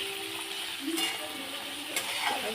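Tomatoes sautéing in oil for a cashew curry, a soft steady sizzle with a few scraping stirs of a spoon in the pan, a quiet voice over it.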